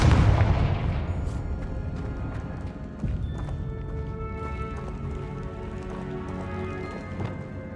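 A Confringo fire spell explodes in the Hogwarts Legacy video game, opening with a loud booming blast that rolls on into crackling, rumbling debris and a second fainter burst, with no talking.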